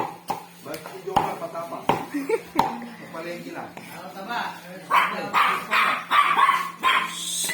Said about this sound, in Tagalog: Pero di naman nangangagat. Natahol-tahol lang.